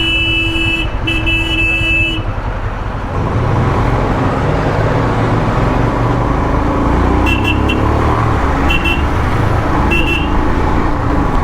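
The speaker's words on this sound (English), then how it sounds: "Seem to have hit a bit of a snag. A couple of lorries coming through." Lorries rumbling through a small Himalayan town, a steady loud roar of heavy engines and traffic throughout, with brief horn toots near the start and a few short repeated honks later.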